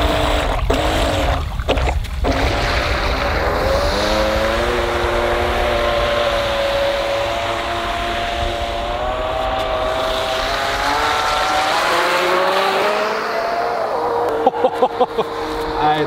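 3D printed jet boat on a 12 cell pack running on water, a steady whining motor drone rising and falling in pitch as it moves, with a voice speaking over it near the end.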